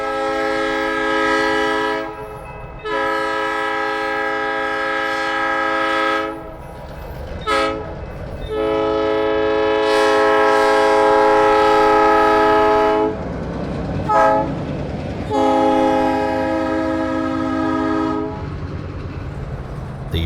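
A 70-year-old locomotive rolls past old plant gate crossings at a former DuPont nylon factory in Seaford, sounding long, loud horn blasts in a crossing pattern over a low rumbling engine and wheel noise.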